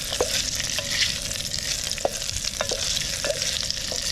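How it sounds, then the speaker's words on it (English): First of two batches frying in a pan outdoors on a beach, a constant hissing sizzle with a series of clicking stirs and scrapes, close and unaccompanied by talk. "I'm going to fry this off in 2 batches because I actually want to get some colour on them."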